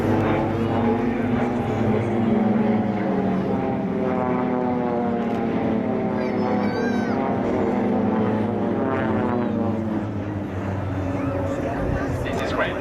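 Swiss Air Force PC-7 propeller aircraft flying loops at an airshow, a continuous droning engine roar with slowly shifting pitch as the planes climb and dive, loud and sustained under an announcer's commentary.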